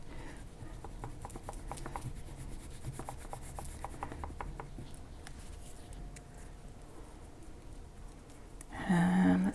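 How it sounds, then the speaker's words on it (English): A tool scrapes patterns into a drawing with soft, rhythmic rasping and rubbing strokes, close up and fairly quiet, ending with a brief louder burst. "I just want to scrape patterns out now."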